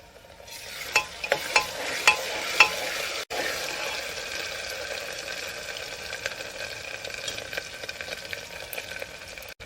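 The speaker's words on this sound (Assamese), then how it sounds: "এইবাৰ দিছোঁ আদা ৰচুন বটা" Ginger garlic paste frying in a pot for pressure cooker chicken curry, with a bright continuous sizzle and a few rhythmic scraping stirs early on, close up and without speech.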